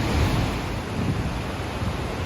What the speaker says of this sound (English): Look at the force of the water.